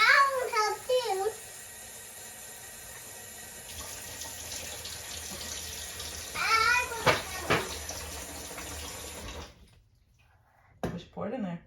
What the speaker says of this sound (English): So I'm gonna get 2 cups of water in here.